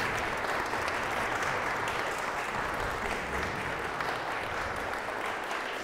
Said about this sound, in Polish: Bardzo dziękuję i proszę o klaski